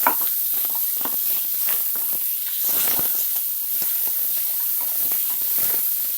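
Tomato and onion frying in a pan, a steady loud hiss and sizzle throughout with faint stirring scrapes, no voices.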